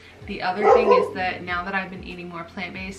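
Small dog barking and yipping in short bursts indoors, mixed with someone talking steadily over it.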